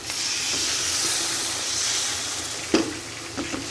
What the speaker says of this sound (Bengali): এখন আমি সামান্য পরিমাণ পানি দিয়ে দিব